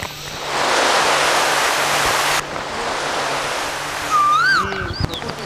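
A recorded waterfall effect roars with broad rushing water during a forest scene in a stage play, loud and steady, then cuts to a softer flow as bird calls chirp near the end.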